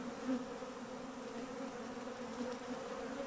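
Honeybees fly around beehives in a steady, faint buzzing drone that holds throughout, with no voices.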